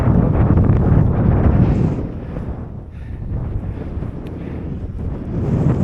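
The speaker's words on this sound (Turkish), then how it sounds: "Bura çok esiyor." Strong wind buffets the microphone with a heavy, continuous rumble on a high hilltop castle site, easing briefly in the middle and then building again.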